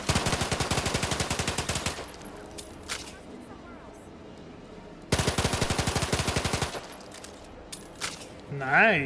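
Machine pistol fire in the video game The Outer Worlds 2: two long, rapid automatic bursts at the start and midway, with a few single shots between them, loud and close. A voice speaks briefly near the end.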